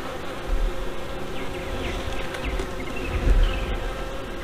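Honeybees buzz continuously close by around an open hive box, a dense humming swarm with individual insects whining past now and then.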